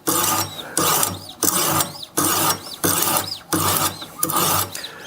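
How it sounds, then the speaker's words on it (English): A knife is drawn across a Wicked Edge sharpening stone in repeated rasping strokes, about eight even passes in a steady back-and-forth rhythm, close and clear with no talk. "What you don't want to do with this is push hard on this knife, okay? Unless you really want to grind some off, but let the stone do the work."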